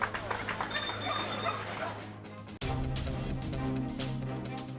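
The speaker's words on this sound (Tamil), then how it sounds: "உதகையில் களை கட்டிய தேசிய அளவிலான நாய்கள் கண்காட்சி." Dogs bark and yip at a national-level dog show in Ooty, where breeds range from miniatures to Great Danes; the barking mixes with a busy background and a voice talking over it.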